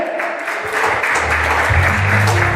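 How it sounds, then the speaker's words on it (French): Warm applause at a church anniversary celebration welcoming a women's church group, with clapping rising over a low musical or crowd rumble that builds partway through the short stretch. "Chaudement, applaudissez-les."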